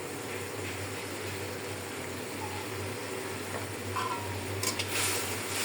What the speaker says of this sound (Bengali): মশলাটা একটু কষায় আমি মুরগি দিব।